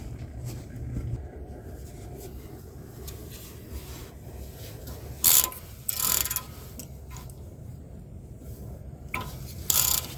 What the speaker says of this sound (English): using the 14 millimeter to take off the top and bottom bolt